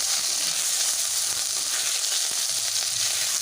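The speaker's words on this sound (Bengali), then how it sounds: "আদাটা খুব ছেটাচ্ছে" Ginger paste fries in hot oil with turmeric for a Bengali fish curry, giving a steady, loud broadband sizzle with sharp spattering pops scattered throughout, close up and with no talking.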